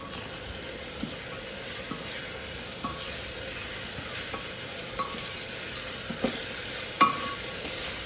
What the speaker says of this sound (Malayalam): ഇതെല്ലാം കൂടി നന്നായിട്ടൊന്ന് വഴറ്റിയെടുക്കണം.